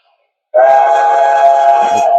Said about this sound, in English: There's your whistle.